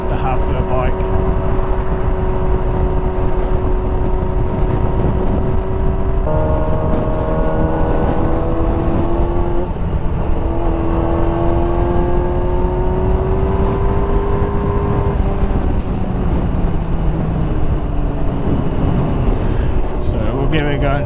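A Yamaha R6 sport motorcycle engine with a remapped ECU drones and revs in steady steps, loud and close, with popping exhaust and a voice talking over it.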